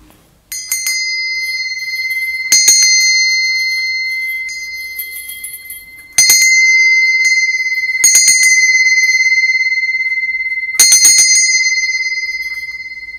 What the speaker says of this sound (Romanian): Sunetul clopotului